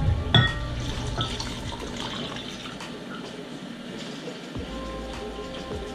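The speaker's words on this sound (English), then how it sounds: "we're going to top it with hot water." Hot water pouring from a tap over a measured half cup of nuts and seeds, a steady close running-water sound lasting throughout, with no talk.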